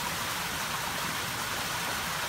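Steady, full rush of falling water from a koi pond waterfall fed by the smaller filter, a continuous close splashing wash with no pauses and no voices.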